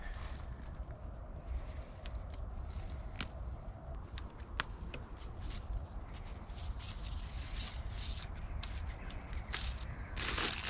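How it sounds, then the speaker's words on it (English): Dry common reeds gathered and crushed by hand outdoors for fire starters, a run of close crackling snaps and rustles over a low outdoor rumble, with no speech. "Common reeds, we're going to grab a whole bunch of these."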